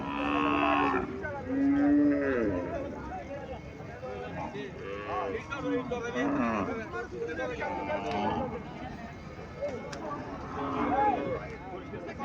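Friesian cows and calves at a cattle fair at Mir Sani Bazar in Comilla let out repeated, drawn-out moos close by, several overlapping calls over a busy murmur of voices.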